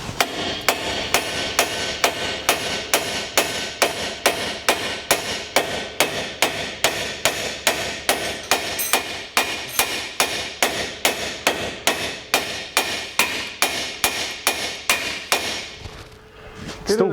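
Steady, rhythmic hammer blows ring out on metal, about two strikes per second, loud and close, continuing for the whole stretch before stopping.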